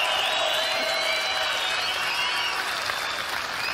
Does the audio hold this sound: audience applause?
yes